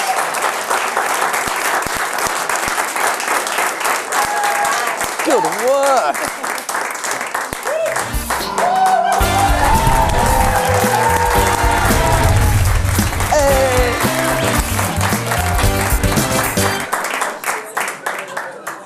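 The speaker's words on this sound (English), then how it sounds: "Ladies and gentlemen, give a round of applause for Jess Harris with What's Hot and What's Not." Studio audience applauding and cheering for Jess Harris after her What's Hot and What's Not segment on a studio show, a loud sustained wash of clapping with music swelling underneath and a presenter's voice speaking over it.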